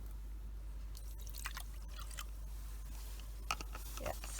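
Water drips and trickles as 200 ml is poured onto pavement for an infiltration test, scattered wet ticks and splashes over a faint background hum, louder splatters near the end.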